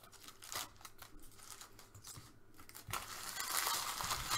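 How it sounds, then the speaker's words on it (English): Foil packs of 2020-21 Revolution basketball trading cards are torn open up close, with quiet crinkling and sharp ripping bursts that build into a louder, sustained tear near the end. "Things ripping like wet paper."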